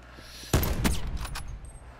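A few sharp gunshots in a Call of Duty match. One loud shot with a booming tail is followed by two or three fainter cracks in quick succession, with no talking over them.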